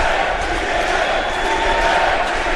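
Dense, loud wrestling arena crowd roaring and cheering continuously at close range, a steady wall of voices with no breaks.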